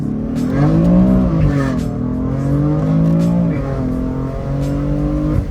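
Exhaust of a moving BMW F80 M3 rumbles steadily, rising and easing as it accelerates and shifts, heard up close from inside.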